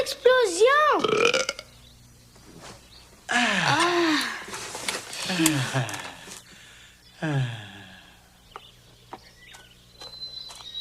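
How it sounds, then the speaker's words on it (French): Childlike burps, several loud close belches with wobbling pitch, come in separate bursts over about ten seconds with brief quieter gaps between them and no talking alongside. "C'est pas poli faire des rots, voyons."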